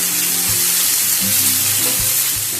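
Onions and tomatoes fry in a pan for a brinjal cashew masala, a loud steady sizzle running throughout with occasional low clatter of stirring, no voices.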